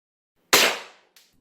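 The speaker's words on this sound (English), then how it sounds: "when I shoot the gun, the slide doesn't fully go back" A Well G CO2 pistol fires one sharp, loud crack up close, decaying quickly, followed by a fainter short click from the partially cycling slide.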